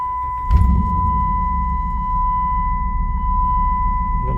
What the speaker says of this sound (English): Let me start the truck.